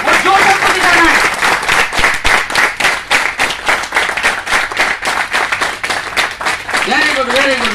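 Loud welcoming applause and clapping from an audience at a launch programme in Amravati, rhythmic and energetic, with voices calling out over it near the start and end.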